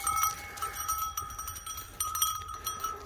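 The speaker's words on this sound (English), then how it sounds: "Got a bunch of excited sheep." Several excited sheep on a farm bleating close by in a busy, continuous chorus, with rustling and faint clanks mixed in.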